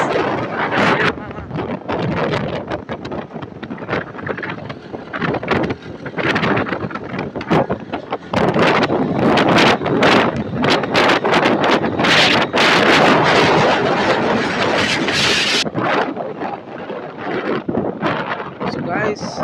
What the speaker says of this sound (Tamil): பலமா காத்து வீசுது guys.